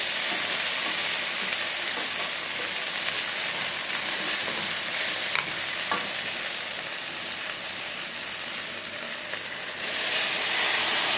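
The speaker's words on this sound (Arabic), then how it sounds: "قلب بس شويه ندمج الملح مع الشعريه مع الرز كويس جدا" Rice, vermicelli and salt stirred together in a pot, giving a steady broadband sizzle and scrape of grains that runs continuously at close range, growing slightly louder near the end.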